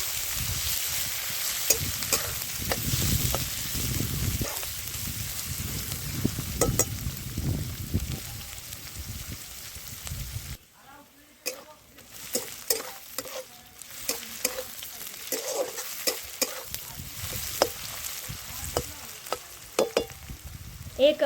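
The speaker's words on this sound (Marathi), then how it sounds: "गुलाबी रंग येईपर्यंत आपल्याला हा कांदा परतून घ्यायचा आहे" Onions and chillies sauté in a pan over a wood-fired village stove, a continuous sizzle broken by frequent spoon stirs and scrapes, briefly dropping quieter midway before the stirring picks up again.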